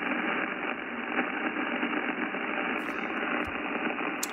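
Steady broadband receiver hiss and static from a Yaesu FTDX10 radio with its noise blanker switched on, running continuously at an even level with a few faint clicks near the end.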